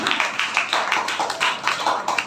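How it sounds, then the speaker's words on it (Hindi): Audience at a Hindi poetry recital (kavi sammelan) clapping in a dense, uneven patter over a couple of seconds, moderately loud with no voices. "तो एक बार जोरदार तालियां प्यारे बच्चों के लिए"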